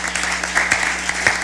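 At a junior science quiz competition, scattered clapping rings out in uneven bursts over a steady background hum, fairly light and brief rather than a full roaring ovation.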